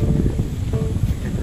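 Cool, fresh breeze blowing across an open field in the countryside, a steady low rumble of wind buffeting the microphone throughout, fairly loud and continuous with no talking.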